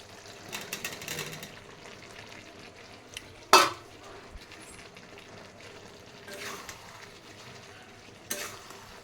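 Potatoes sauté in a pan with a steady low sizzle. Soft stirring scrapes run through it, a sharp clatter of the utensil comes near the middle and a lighter knock near the end. No one speaks.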